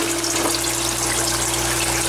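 Water from an aquaponics system pours through a drain into a PVC pipe fitted with a 45-degree elbow, a steady close rushing trickle over a constant pump hum.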